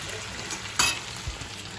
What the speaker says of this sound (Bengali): আমি এক হাতে নাড়াচ্ছি, এক হাতে ধরে রয়েছি ফোনটা।